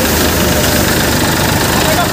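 Paddy threshing machine running in a village while rice is fed in, a loud, dense, continuous mechanical roar and rattle with voices talking over it.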